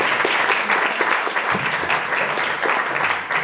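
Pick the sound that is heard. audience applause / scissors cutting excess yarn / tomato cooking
audience applause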